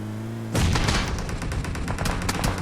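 Sustained automatic gunfire in PUBG Mobile erupts abruptly after a low hum, a fast, loud stream of closely spaced shots that continues to the end.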